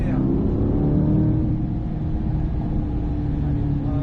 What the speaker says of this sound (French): Allez, on accélère.